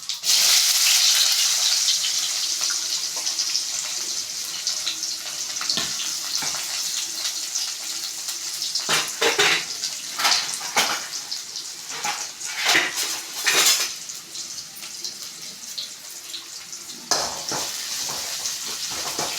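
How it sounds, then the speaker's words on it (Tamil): Fenugreek, cumin and onions frying in a pan, a loud close sizzle that settles into steady crackling, with repeated scraping stirs in bursts through the middle and no talk. "சரி, இப்போ வெந்தயம் போட்டுக்கலாம். சீரகம், கட் பண்ணி வச்சுருந்தா வெங்காயம்,"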